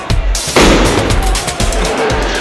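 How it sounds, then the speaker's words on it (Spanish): During the Fallas festival in Valencia, a sharp burst of crackling firecracker bangs rings out, followed by a rapid, irregular string of pops and snaps echoing through a noisy outdoor crowd. "Llegó el momento de petardos en la falla de papel."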